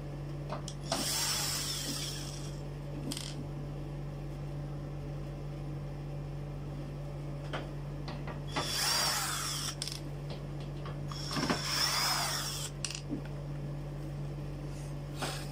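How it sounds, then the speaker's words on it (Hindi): An electric screwdriver loosening screws on the cover of an old Sony music system, with a few short whirring bursts separated by pauses over a steady background hum. "मैंने ये सारे के सारे जो इसके स्क्रू है ये ओपन कर लिए हैं"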